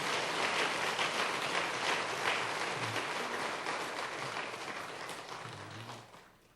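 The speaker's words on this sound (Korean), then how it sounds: "다시 한번 우리 찬양대를 위해서 박수 한번 하십시다." Church congregation applauding the choir during a Sunday Easter service, a dense, steady wash of many hands clapping at moderate distance that gradually fades toward the end.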